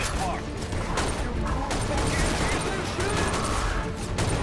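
Minigun firing in Garry's Mod, a dense sustained rattle of rapid gunfire running loud and continuous throughout, with a voice talking over it.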